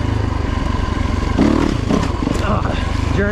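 A Yamaha YZ450FX dirt bike roars and pops while riding up on a wheelie, its loud close engine note rising and falling under rider chatter and wind buffeting.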